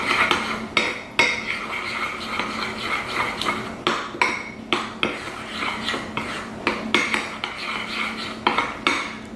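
A spoon clinks and scrapes rhythmically against a bowl while stirring a homemade organic toothpaste mix of clay and drops of oil, steady close-up strokes repeating about once per half second, with no talking.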